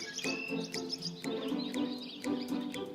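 Cartoon birds in a children's show give bright, repeated chirps in quick bursts, with short pauses between them. The chirps play over a soft tonal background and sit fairly close and clear.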